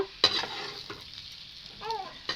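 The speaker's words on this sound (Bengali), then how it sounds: "এই দেখো আমার আলুটা ভালোভাবে ভাজা গেছে" Potatoes frying in an iron wok for a Bengali desi chicken and potato curry, with faint sizzle under sharp scraping and stirring strokes, nearby and moderately quiet.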